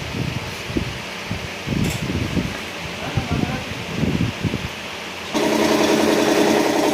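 An air compressor runs steadily in a motorcycle repair shop during an engine rebuild, a constant mechanical drone that swells louder and more tonal near the end, with voices and workshop handling noises over it.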